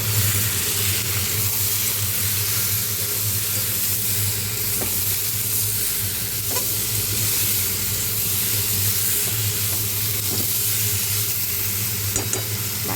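Fried potatoes and ridge gourd sizzle and hiss steadily in a hot pan as they are stirred and sautéed, a continuous close frying sound with a few faint clinks and no talk.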